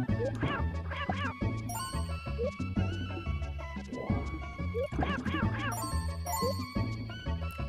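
Duck quacking in the Claymates video game, repeated short quacks over dense, busy game music and effects, with a few brief bursts recurring through the stretch.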